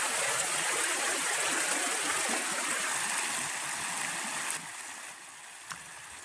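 A creek flows steadily beside a campsite, a close, continuous rushing and babbling of water that stays even throughout and drops slightly in level near the end.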